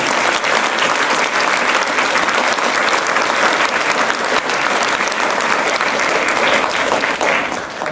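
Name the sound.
applause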